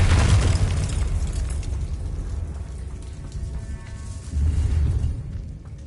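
Confringo fire spell exploding in the video game Hogwarts Legacy, a loud rumbling boom that swells at the start, crackles and rolls on, then surges again near the end, with no talk.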